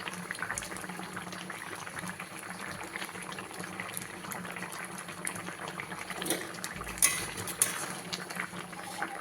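Egg curry gravy simmers and reduces in a pan, a steady soft bubbling hiss with a few faint clinks of a utensil against the metal.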